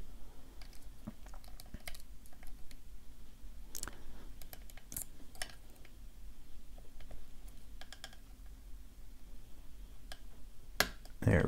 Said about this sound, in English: There we go, got another click.